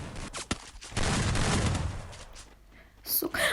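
Gunfire in a video game tournament plays in the distance, a spread of faint sharp cracks and bursts under a noisy wash, with a voice talking part of the time.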